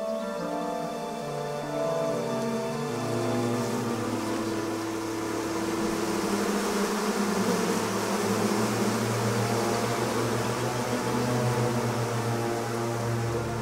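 Honeybees buzz steadily and closely for the whole stretch, a dense, continuous drone with shifting overtones and no voices.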